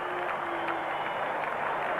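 A cricket crowd at Karachi keeps up a dense, steady roar of applause after a six, distant and continuous, with a commentator's voice faintly underneath.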